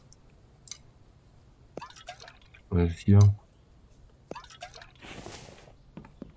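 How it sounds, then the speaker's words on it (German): Hands washed with fresh water in the survival game The Infected: a pair of quick, loud splashing pours close together, with faint drips and someone speaking briefly around them. "Ja, Hände waschen. Können wir gleich frisches Wasser."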